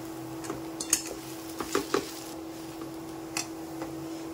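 A spoon stirs chaat masala into a potato filling in a pot, giving a few sharp clinks and soft scraping knocks against the metal over a quiet steady hum, close by with no voices.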